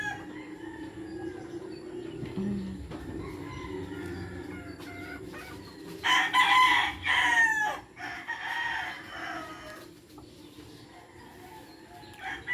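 Frizzle chickens out in a garden cluck and call on and off, with a louder burst of crowing-like squawks in the middle, heard fairly close against quiet outdoor background.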